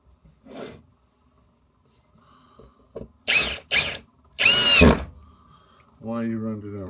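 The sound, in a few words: cordless drill driving wood screws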